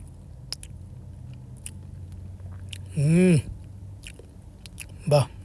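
Someone tastes a lentil dish at a party, with soft, wet chewing clicks close to the mic and two short voiced hums of appreciation between bites.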